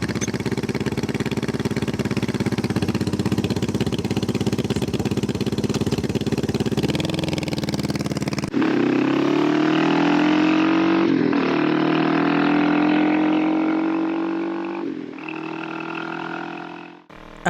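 The engine of a 1972 Honda CL350 Scrambler motorcycle running loud and close, a steady throaty drone that shifts into revving with rising and falling pitch, then eases off near the end.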